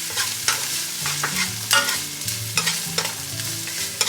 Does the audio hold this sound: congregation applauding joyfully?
no